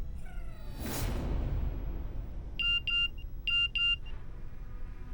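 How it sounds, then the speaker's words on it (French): A mobile phone rings with two pairs of bright electronic tones, preceded by a whooshing sweep and a low background hum. "ton téléphone n'arrête pas de faire du bruit"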